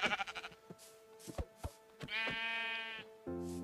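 A sheep in the Minecraft video game bleats several times, preceded by a quick series of clicky taps; a clear, close synthetic bleat with a sustained buzzy tone and a short repeat at the end.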